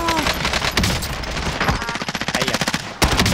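Call of Duty Warzone gameplay with loud, close machine gun fire, rapid rhythmic bursts of shots that pulse steadily and then end in a sharp blast, with a player's voice briefly audible.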